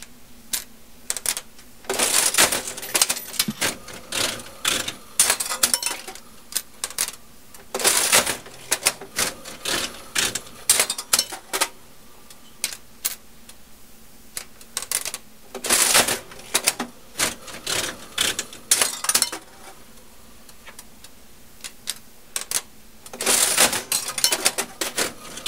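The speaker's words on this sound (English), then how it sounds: "We have a Mills Bluebell 5-cent machine." A vintage Mills Bluebell 5-cent coin-operated slot machine in excellent condition being played, with repeated bursts of mechanical ratcheting, clunking reels and clattering levers separated by brief pauses, close and fairly loud.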